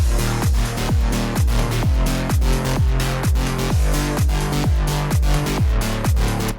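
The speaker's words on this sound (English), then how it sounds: "and this is what they sound like together." A punchy electronic drum beat with steady kicks and a deep, heavy bass line playing together, loud and dense, with no voices.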